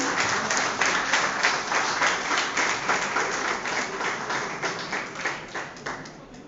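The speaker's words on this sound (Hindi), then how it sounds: "एक बार जोरदार तालियां बजा लीजिए" Sustained audience applause at a World Theatre Day drama event, dense clapping from a crowd that stays steady and loud before tapering slightly toward the end, with no talk over it.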